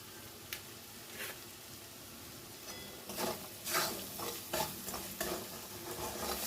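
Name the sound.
frying spice masala for potato curry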